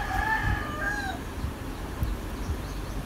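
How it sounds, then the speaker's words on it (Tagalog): A rooster crows in the background, a rising and falling call lasting about a second, heard at moderate distance over a steady low outdoor hum. "May tumitilaok na manok."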